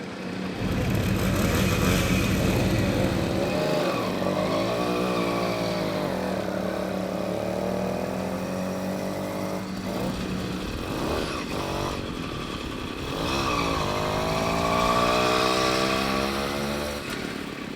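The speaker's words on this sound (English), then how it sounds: "We're just on a stupid little motorbike, end of a dusty road." A small motorbike engine runs steadily on a dusty road, its buzzing drone rising and falling in pitch as the rider shifts and accelerates, loud and close throughout.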